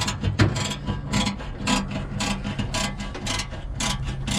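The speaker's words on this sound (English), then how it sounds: "just screwing the bolts of the actual seat down now" Bolts on a VW campervan seat being screwed down, giving a run of quick metallic ratchet clicks and short ticking bursts at close range in a quiet space, with no voices.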